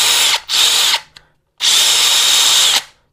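A Kyocera cordless drill, a Japanese-brand battery model with hammer mode and two speed settings, whirs at high speed in two loud bursts separated by a brief stop and a small click, close up with no talk.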